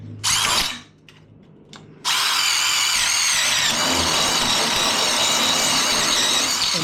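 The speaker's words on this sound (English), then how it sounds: "and you begin drilling holes through the hanger" A power drill bites in briefly, pauses, then runs continuously, boring through a metal wall hanger into a wooden stud; loud and close with a steady whirring tone.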